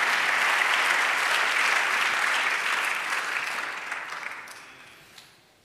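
A church congregation applauds loudly and steadily, the clapping gradually fading out over several seconds with no voices over it.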